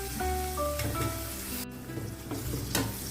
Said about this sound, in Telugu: ఉల్లిపాయ పచ్చిమిర్చి ముక్కలు వేసేసి వాటిని బాగా డీప్ ఫ్రై చేసుకుందాం